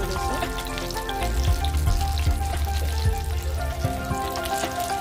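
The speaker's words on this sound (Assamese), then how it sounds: "মাছখিনি যেনিবা আগেই ফ্ৰাই কৰি থৈছিলোঁ, ঠাণ্ডা হৈ গৈছিলোঁ, সেইকাৰণে আকৌ এনেকৈ ফ্ৰাই কৰি লৈছোঁ" Koi fish pieces, fried earlier and gone cold, are fried again in a pan for a masala fish curry, giving a loud, continuous close sizzle with bubbling crackles throughout and no talking.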